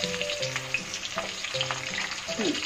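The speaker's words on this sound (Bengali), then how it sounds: "খুব বেশি করে কড়া করে ভাজবেন না, হ্যাঁ, হালকাই ভাজা হবে" Katla fish sizzles and crackles steadily in hot oil, close up, with faint melodic music playing underneath.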